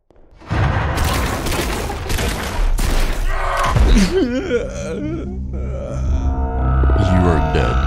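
Gunfire in a subway shooter video game, rapid loud bursts of shots and booms near the start, then mixed with grunts, creature-like wails and other game sounds that run under the shooting.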